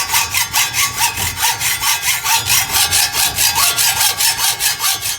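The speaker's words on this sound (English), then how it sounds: "Now I'm just gonna cut both of those out. Use the regular hacksaw to do it." A regular hand hacksaw cuts through stock for a homemade sword's hand guard, its steady back-and-forth strokes rasping in an even rhythm of about four strokes a second, close and loud, with no talking.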